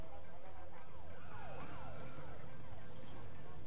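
A police car siren wails with repeated rising and falling sweeps in a city racing video game, loud and steady over constant engine and road noise.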